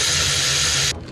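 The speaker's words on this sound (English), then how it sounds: "and then I'm going to torque them" Torque wrench tightening bolts on a vehicle during weekend maintenance, a loud steady mechanical ratcheting buzz held for about a second before cutting off abruptly, with no talk.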